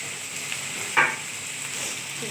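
Whole okra frying in a pan as mustard paste goes in, a low steady sizzle with one brief sharp splash of hissing as the paste hits the hot oil, fairly quiet overall.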